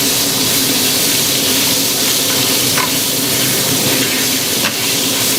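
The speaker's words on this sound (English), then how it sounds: "you're simply going to flavor the oil with these aromatics" Aromatics fry in hot oil with a loud, steady sizzle and hiss throughout, with a couple of faint clinks of stirring and no talking.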